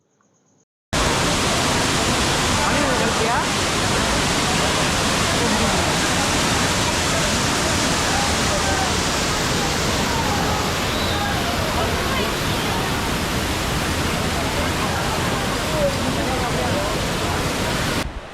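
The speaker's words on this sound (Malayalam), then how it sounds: "നല്ല കാട്ടിൻ്റെ ഉള്ളിൽ കിടിലൊരു വെള്ളച്ചാട്ടം." A loud, constant roar of a forest waterfall close by at Achankovil, a broad rushing wash of water that fills the whole clip.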